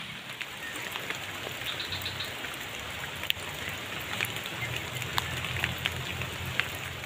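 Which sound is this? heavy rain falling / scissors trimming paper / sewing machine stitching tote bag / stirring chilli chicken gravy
heavy rain falling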